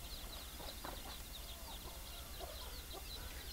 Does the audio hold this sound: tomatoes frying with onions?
no